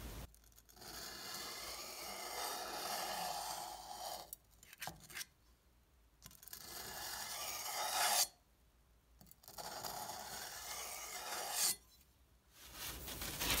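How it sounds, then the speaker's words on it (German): Kitchen knife blade, freshly hardened, drawn lightly over a sanding belt to dull the edge, giving a rough rasping grind in three long passes separated by quiet gaps, close and steady. "werde ich sie ganz leicht wieder stumpf machen, indem ich sie hier über das"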